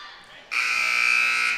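A basketball game buzzer at a high school holiday tournament blares one loud, steady electronic tone for about a second, starting abruptly after a quiet moment and holding to the end.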